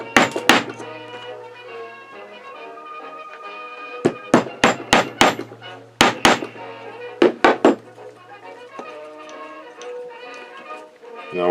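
Short little nails hammered into pre-drilled holes on a robot postage scale platform, sharp metallic taps in quick clusters of several blows with pauses between, close and loud.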